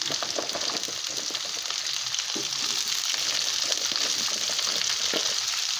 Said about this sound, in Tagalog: Igisa natin. Haluin natin siya.